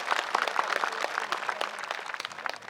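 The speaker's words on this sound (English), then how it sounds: "So a big clap to her because of her" An audience at a protest gathering claps for an award-winning social worker, a dense, even patter of many hands held steady and fairly loud throughout, with no voices over it.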